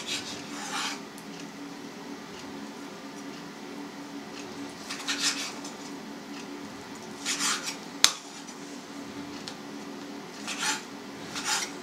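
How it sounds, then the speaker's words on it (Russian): A knife cuts pounded meat into small squares for Uzbek samsa, making quiet rasping, scraping strokes in irregular bursts with one sharp tap partway through, and no talking. "порежем его на квадратики со стороной где-то 1 сантиметр"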